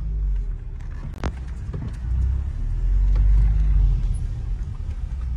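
Audi S3 engine and exhaust running outdoors, a steady low rumble that swells slightly as the revs rise, with a sharp brief knock early on.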